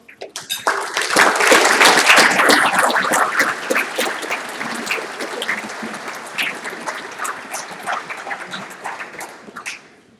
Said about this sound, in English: Will the Great Lakes Region Cadet Competition staff please stand for a round of applause?